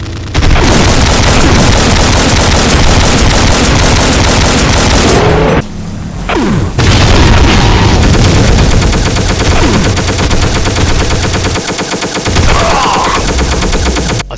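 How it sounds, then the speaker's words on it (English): Cyberdemon's explosive minigun in a Doom mod, firing a dense, loud, continuous barrage of rapid gunshots and blasts with a brief pause midway before the barrage resumes. "an explosive minigun,"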